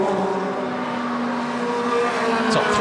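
Formula Renault Eurocup race cars at Spa-Francorchamps take a corner, their engines a loud, sustained whine that swells as one car passes close, with a falling pitch sweep near the end.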